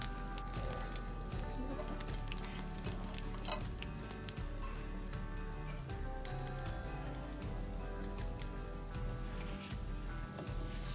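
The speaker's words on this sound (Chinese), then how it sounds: "再放入锅内，全程低火，慢慢煎烤至熟" A banana pancake cooks slowly in a pan over low heat, giving a faint, continuous crackling sizzle with scattered pops and a low steady hum beneath, heard close with no talking.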